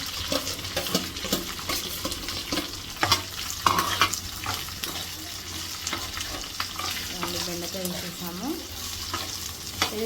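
Okra and curry leaves fry in a pan with cumin, giving a close sizzle broken by the scrape and clatter of stirring. Brief rising squeaks sound near the end.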